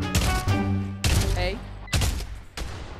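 Gunfire in the video games Pavlov and GTA 5, three loud bursts of rapid shots with booming low-end impacts, each followed by a short decay, close and dominant throughout.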